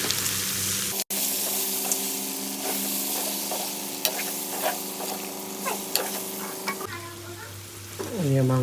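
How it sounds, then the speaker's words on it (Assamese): Pork sizzles in a pan with turmeric, red chilli and coriander powder as it is stirred, giving a steady frying hiss broken by a brief pause and scattered scraping clicks of the spoon. "এয়া মাংসখিনি ফ্ৰাই হৈ গ'ল"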